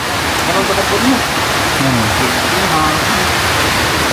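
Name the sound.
rain falling outdoors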